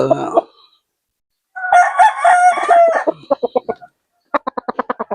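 A Boston Roundhead gamecock rooster crows loudly and close by in a long rising call, followed by two quick runs of sharp, rhythmic clucks, with a brief squawk at the start.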